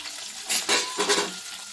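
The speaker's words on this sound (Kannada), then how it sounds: "ಎಲ್ಲ ಎಣ್ಣೆಲೆ ಫ್ರೈ ಹಾಕೋದು." Pepper, cinnamon, poppy seeds and marathi moggu frying together in oil, a soft steady crackle with a few brief louder swells of sizzle and stirring, close and with no voices.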